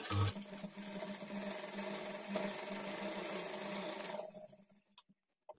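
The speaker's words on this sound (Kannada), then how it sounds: "ಈ ಸೊಂಟದ ಪಟ್ಟಿ ಮೇಲೆ ಎಡ್ಜ್ಗೊಂದು ಕಿನಾರಿ ಸ್ಟಿಚ್ ಹಾಕ್ಕೊಳ್ಳಿ" Sewing machine running a continuous stitch along the edge of a child's lehenga waistband, a faint steady mechanical whir that runs several seconds, then slows and stops.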